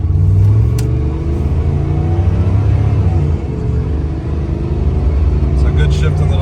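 A 1993 Chevrolet C1500 pickup with a 5.7 V8 and automatic transmission accelerates onto a highway, its low engine rumble loud and steady throughout, with road noise mixed in.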